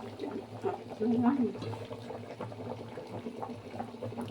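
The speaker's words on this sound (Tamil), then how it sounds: "கொதிக்குது குழம்பு" A pot of fish curry bubbles gently at a low boil, and a voice is heard briefly over the soft simmering.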